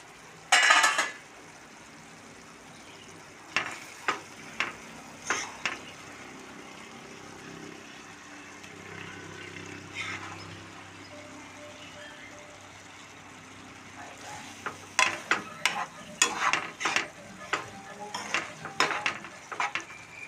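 Egg bun curry bubbles softly in a covered pan, with a low simmer broken by bursts of clattering lid and utensil knocks against the pot, sharp and close at the start and toward the end.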